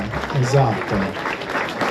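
Audience applause at the Sardinian sports awards ceremony in Alghero, a brief steady round of clapping from a moderately sized crowd with a voice murmuring over it.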